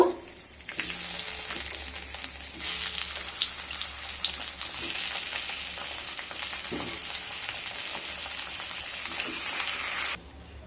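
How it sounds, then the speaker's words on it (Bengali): Pumpkin pieces fry in hot oil with a bright, continuous sizzle and crackle, a few soft scrapes and bumps mixed in, before the sound cuts off abruptly near the end. "সমস্ত কুমড়োগুলোকে ভেজে নেব"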